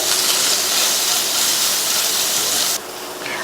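Paneer sautéing in a pan gives off a loud, steady sizzling hiss at close range. It cuts off abruptly near the end into a quieter hiss, with no voices.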